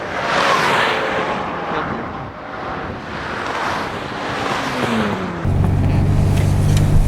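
Nissan 300ZX Z32 twin turbo car on a track cool down lap, heard as a droning engine with rising and falling tones, heavily buried in rushing wind noise, with a steadier low hum entering near the end.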